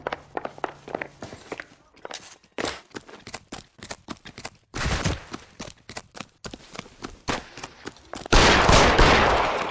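Sharp percussive gunshots and hard footsteps in L.A. Noire ring out in an irregular scatter of loud cracks with pauses, voices talking between them, ending in a sustained dense burst of noise.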